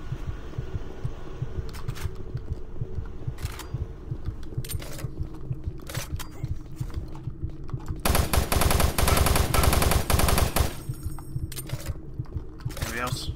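Video game gunfire in Doom 3, a first-person shooter: scattered single shots, then a loud dense burst of rapid automatic fire near the end, with someone talking at times over the action.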